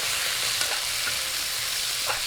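Pork sizzling and frying in a pan with aromatics for laing, a dense, loud, continuous crackle with a few light stirring clicks, close by and without speech.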